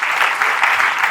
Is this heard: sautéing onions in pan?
no